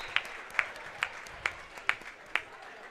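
A volleyball crowd at a high school senior night claps in unison, six sharp, evenly spaced claps echoing through the gym over low background murmur.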